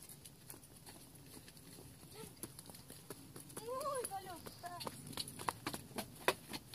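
Two horses are led in from a small meadow to their stable boxes, hooves clip-clopping in an uneven walking rhythm that grows closer and louder, while a person talks over them.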